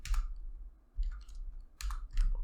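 Clicking keystrokes on a computer keyboard during data entry into an Excel spreadsheet, arriving in short clustered bursts with pauses between, close and fairly quiet with no speech.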